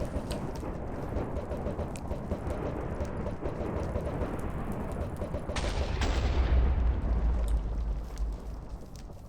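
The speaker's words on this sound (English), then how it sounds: "nuke that little stand of trees with lightning" Lightning strikes blast a stand of trees in a video game, a sustained crackling, rumbling barrage that swells into a heavier low boom midway and then fades slightly, loud and continuous with no talking.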